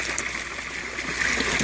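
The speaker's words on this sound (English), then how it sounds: "Sorry about the water noise." Water from an aquaponics tank pump splashing and trickling continuously, a close, steady churning wash with no pauses.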